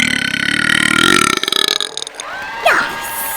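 A long, loud, deep belch from a person at a burping contest, rumbling and gurgling for over a second before breaking into choppy bursts and fading, followed by a short high exclamation.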